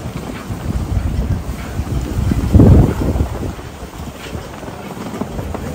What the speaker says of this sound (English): Look at the wind going.